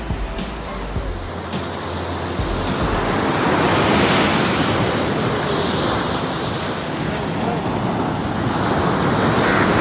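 Steady roar of sea surf washing onto Elliot's Beach, Besant Nagar, Chennai, broad and continuous, with some wind buffeting the microphone and no voices.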